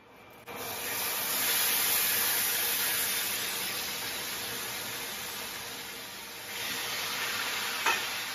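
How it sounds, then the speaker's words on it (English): Loud, steady sizzling of steak searing in a hot skillet, a continuous crackling hiss with a brief clatter near the end. "You hear that sizzle? That's what you want to hear."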